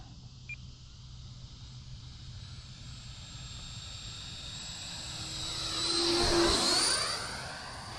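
E-Flite Viper 90mm electric ducted-fan RC jet flying a slow, low pass with flaps out, a whine that builds to a loud sweeping Doppler pass near the end, then fades, no talking.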